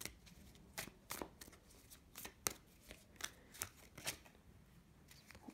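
Tarot cards shuffled and drawn by hand, a quiet close-up series of crisp riffling snaps and slides that come in irregular bursts, with no talking.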